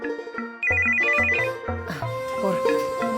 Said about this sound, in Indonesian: HP Ibu kok yang bunyi?